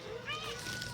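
A cat gives a single short, faint meow with a rising, wavering pitch, lasting under a second.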